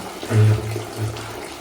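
Hot water is drained off boiled tapioca, a short gushing pour that surges loudly, eases, then briefly rises again close by.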